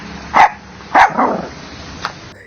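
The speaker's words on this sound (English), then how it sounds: "Suddenly, there was a loud bark and a little dog poked her head out of the feathery pile." A little dog barks twice, sharp and close, then trails into a softer whine. A faint short yip follows a moment later.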